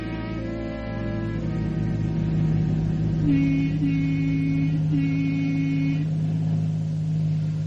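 A bus engine drones steadily as the vehicle drives, a loud, continuous rumble whose pitch briefly rises and dips, with no voices.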